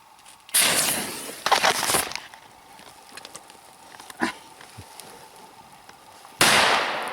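A large firecracker meant to mimic a gunshot goes off outdoors by a river in the Siberian taiga, sharp loud bursts with crackling trails followed by scattered smaller pops and a final loud blast.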